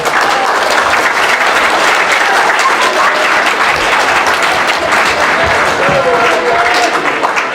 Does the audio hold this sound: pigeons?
no